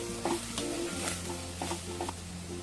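Chopped cabbage tossed into vegetables frying in a pan for veg momos, a close steady sizzle with several soft stirring scrapes and a low hum beneath, no speech.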